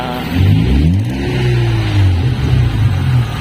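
A 1989 BMW E30 320 with an M50B20 six-cylinder engine and a resonator exhaust, held at a gentle rev with a steady, smooth mid-pitched hum that rises slightly and holds, close by with no talk.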